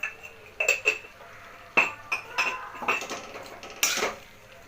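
A spoon clinks and scrapes against a pan as spices are stirred into potatoes for chicken keema, giving a run of sharp, close metallic taps and scrapes at an uneven rhythm with no talk.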